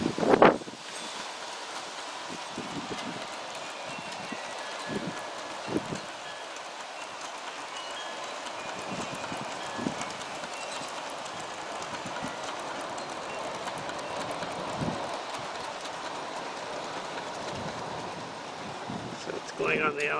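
An Aristo-Craft 40-car reefer train with a Mallet helper rolls along an outdoor garden track, a steady low rumble broken by regular soft rail clicks as the cars pass over joints.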